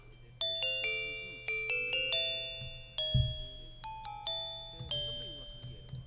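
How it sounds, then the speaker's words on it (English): A bell melody in composed dungeon music rings out as a sequence of struck, chiming tones with long decays. The notes fall in an irregular rhythm over a low sustained drone, clear and close, with no talking. "This is the melody of the bells."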